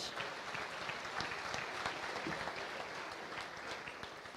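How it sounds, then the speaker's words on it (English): At a state FFA awards ceremony, an audience applauds as award winners leave the stage, a steady, even wash of many hands clapping, fairly quiet and distant in a large hall. "Let's give them a round of applause as they leave the stage."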